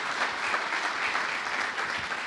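An audience in Indore claps steadily as a crowd, a dense continuous round of applause with no gaps, loud and close throughout.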